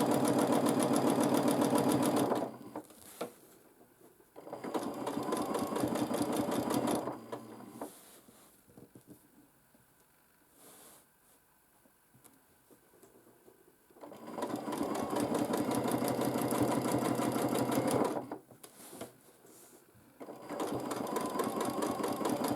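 A machine quilts a baby quilt under hand guidance, its motor humming loudly in several long runs separated by quiet pauses, with faint clicks in the gaps and no voices.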